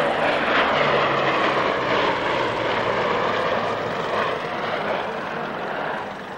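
A vintage aircraft with Bristol engines flies past at the 1999 North Weald Airshow, a loud, sustained propeller-engine drone that swells and slowly fades as it passes.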